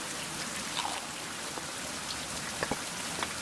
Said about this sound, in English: More rain, look at that.